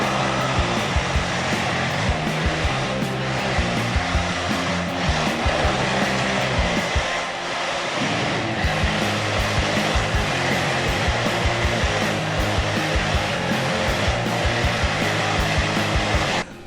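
Electric motor of a Volantex 1:14 scale RC drift car runs with a steady, loud high-pitched whine that holds nearly constant throughout, with only a brief dip, and no talk.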